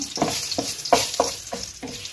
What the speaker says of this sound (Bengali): এবার আমি কাজু দিয়ে দিয়েছি, কাজুটা আমি ভেজে নেব।